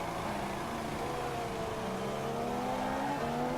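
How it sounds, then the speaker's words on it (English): Race car engines from the F1 2016 racing game drone steadily at a distance, a low, continuous mechanical hum with slowly shifting pitch lines and no distinct pass-by. "It sounds like there's a car literally where my camera is as well"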